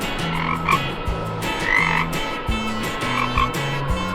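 Cartoon frog croaking in repeated short bursts, steady and close, with layered low croaks and light background music, no voices.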